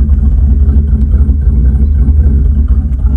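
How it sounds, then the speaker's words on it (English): Pontiac Trans Am engine with a freshly tuned carburetor, heard as a loud, close, steady low rumble with a lumpy idle-like pulse and no talk over it. "you might appreciate the sound I've been playing around with the carburetor, tuning it and whatnot"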